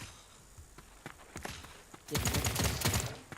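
Rapid bursts of gunfire in the video game Paladins crackle in quick succession, building into a dense volley with sharp, clipped impacts and a steady electronic background.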